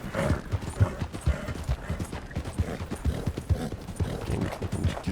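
Horse hooves galloping in Red Dead Redemption 2, a steady rapid clip-clop rhythm of repeated thuds running continuously and fairly close, with no voices over it.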